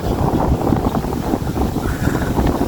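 Strong wind over the Koyna River buffeting the microphone in a constant low roar with gusty rumbling, loud and unbroken throughout.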